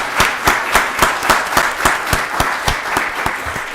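Rhythmic applause at a county board of commissioners voting session, with sharp, evenly spaced synchronized claps at roughly three per second ringing close and loud over a softer background of scattered clapping.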